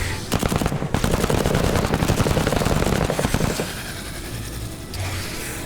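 Loud rapid automatic gunfire in a video game rattles in sustained bursts for about three seconds, then drops to quieter mechanical game noise.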